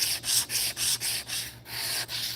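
Rhythmic hand sanding of small parts made by PCBWay, strokes rasping back and forth about four times per second, close and steady, with a low electrical hum underneath.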